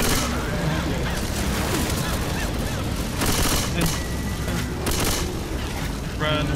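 Rapid gunfire bursts in the zombie shooter game Left 4 Dead 2, mixed with booms and in-game chaos in smoky surroundings, with a player talking over the action.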